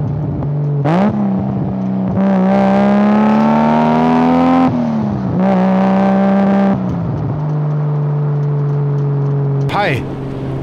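A Nissan Skyline GT-R's RB26 engine, captured right at the muffler, drones and rises through several loud revs, its exhaust note climbing and falling in surges before settling to a steady idle-like hum.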